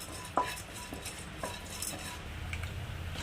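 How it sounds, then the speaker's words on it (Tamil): Light scraping and clinking of a utensil stirring peanuts roasting in a pan over a medium flame, with a few sharp taps over a low background hum. "வேர்க்கடலை லைட்டாக வறுத்து எடுத்துக்கலாம்"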